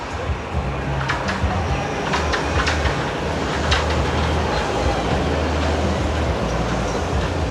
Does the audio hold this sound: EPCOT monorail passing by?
yes